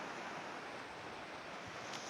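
Steady broadband wash of sea water at a beach, continuous and fairly soft, with no voices and a slight breezy roughness throughout.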